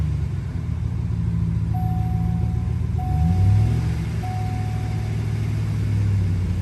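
A Chevrolet Silverado 5.3 V8 with a low oil pressure fault rumbles steadily and swells slightly when given some gas, alongside a few short electronic beeps.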